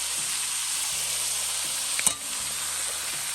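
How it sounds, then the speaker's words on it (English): Tinned ackee frying in a pot for Jamaican seasoned rice, an even close sizzle with one brief clank of a utensil midway and no speech. "Because I just like to have the ackee fry up for about a minute."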